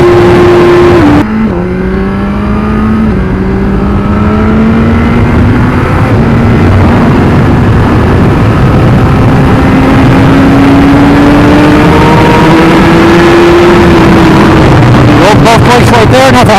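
A 2017 Suzuki GSX-R1000R sportbike accelerating hard through the gears during a wheelie, its engine note climbing loud and close, dropping at each upshift, then surging again, with a rider's voice heard over it.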